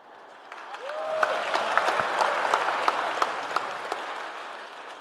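Church congregation clapping during a sermon, a steady wash of applause with several sharp, distinct claps standing out, and a brief whistle near the start.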